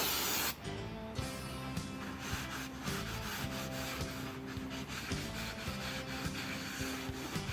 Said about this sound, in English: Let's beep and spray it over.